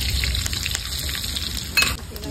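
Whole spices (cardamom, cinnamon, clove, bay leaf and cumin) sizzle in hot oil with a loud, close, continuous crackling hiss and a brief louder burst near the end.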